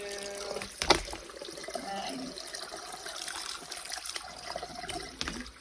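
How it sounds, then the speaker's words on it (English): Cold water from a tap runs over freshly boiled rice noodles in a strainer, a steady close splashing trickle with a brief louder burst near the start. "Just some cold water to make them stop cooking."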